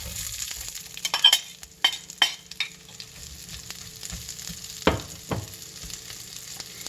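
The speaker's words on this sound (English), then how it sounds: "Let's get the onions in." Onions sizzle and fry in a pan for a Vidalia onion pie, a steady close hiss broken by several louder bursts of stirring and scraping.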